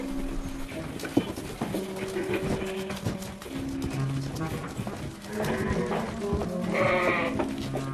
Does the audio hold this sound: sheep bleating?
yes